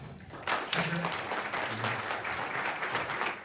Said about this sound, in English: Please give a round of applause to these people